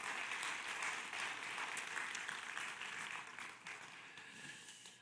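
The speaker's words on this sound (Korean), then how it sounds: "하나님께 영광의 박수 한번 들렸으면 좋겠습니다" Church congregation applauding together, a dense, steady wash of many hands clapping that fills the whole stretch and eases off slightly toward the end.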